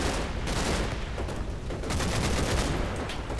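Bren light machine gun firing in the Combat Mission: Battle for Normandy video game, with dense, continuous bursts of gunfire and battle noise filling the whole clip, loud and steady.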